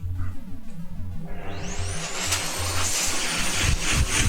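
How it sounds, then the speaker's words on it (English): A vacuum cleaner switches on partway through, its broadband whoosh rising to a steady roar as it sucks up solder dust on a workbench during a capacitor swap, with a low electrical hum underneath. "I really need to get the vacuum here."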